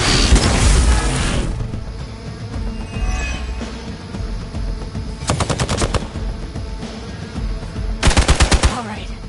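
Gunfire rings out in a Marvel's Midnight Suns battle: a loud opening volley, then two sharp rapid automatic bursts separated by rumbling combat noise, the last burst heaviest.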